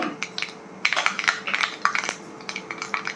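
Mustard seeds hit a hot pan and crackle as sharp, scattered pops and clicks come in quick irregular bursts, close up, while vegetables are cooked alongside.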